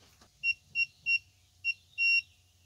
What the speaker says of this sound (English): You'll hear it beep.